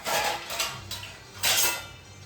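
Metal utensils clink against a pot and container as homemade pickle is scooped and transferred, with two or three bursts of clattering scraping close by and no talk.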